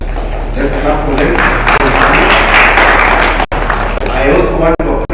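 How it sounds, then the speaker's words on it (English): Applause rises from an audience honouring chief guests and education directors at a scholarship ceremony, a dense, steady wash of clapping that carries loudly through the hall, broken briefly near the end. "Let's clap for them."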